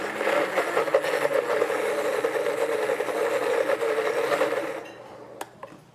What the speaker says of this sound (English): I hate it when the Vitamix goes too fast. But yeah, all you're gonna do is grind it up.